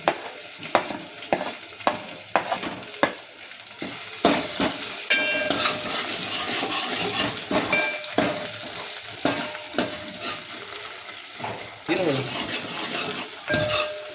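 Homemade ginger garlic paste stirred in a pan for a Malvani chicken rassa, steady sizzling with repeated scraping and clinking of a spoon against the pan, fairly close and loud, no voices.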